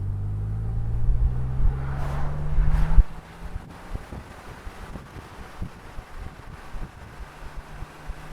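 A BMW M Roadster with a manual gearbox pulls hard in first, its engine rumble rising under wind buffeting, then drops abruptly as the driver shifts up to third and the car cruises on at a lower, steadier drone.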